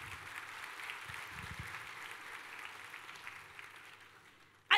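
An audience at a company introduction event breaks into moderate applause, a soft spread of clapping that gradually fades, then a sharp knock at the very end.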